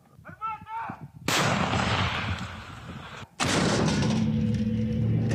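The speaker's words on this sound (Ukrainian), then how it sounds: "Буквально хвилина, і по окупантах летить перший снаряд. Гармата!" Two loud, booming artillery gun blasts roughly two seconds apart, each with a long rumbling tail; faint voices are heard briefly before the first shot.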